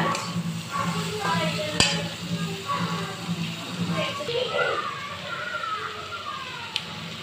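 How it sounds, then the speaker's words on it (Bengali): Chana dal with chopped tomatoes is stirred in a pan, with rhythmic scraping strokes and a faint sizzle, plus a sharp utensil clink, while someone talks. "এবার এটা ভালো করে মিশিয়ে নিয়ে"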